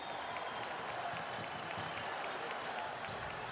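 Eagles football stadium crowd roaring and cheering in a steady, dense wash of noise, with no clear individual voices standing out.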